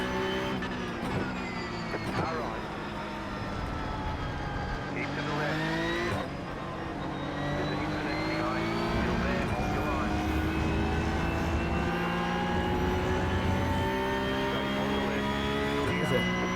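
Porsche Cup race cars in the iRacing game at Interlagos, São Paulo, roar off the start in a pack, engines rising and shifting through gears, loud and close, while someone talks over the engines.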